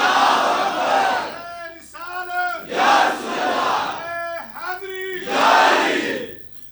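At a religious speech gathering, a standing crowd chants a slogan in three loud massed shouts, with a single voice leading the call in the gaps between them.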